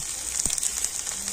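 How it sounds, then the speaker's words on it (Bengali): Tomatoes frying in hot oil in a home kitchen pan, with ground spices such as turmeric about to go in: a steady close sizzling hiss throughout, with no voices. "তো টমেটো তেলের উপরে একটু ভেজে নিচ্ছি।"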